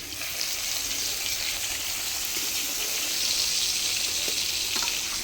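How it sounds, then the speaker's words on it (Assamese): Fish frying in oil on a wood-fired clay stove, a steady close crackling sizzle that runs unbroken and fairly loud throughout. "ৰান্ধনি মাছ ফ্ৰাই কৰি আছে"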